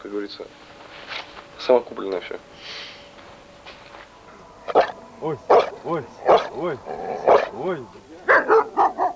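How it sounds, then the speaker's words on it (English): Dogs used to sniff out landmines barking in a war zone, a run of sharp repeated barks growing busier in the second half, heard alongside background voices and outdoor noise. "Dogs are used to sniff out landmines"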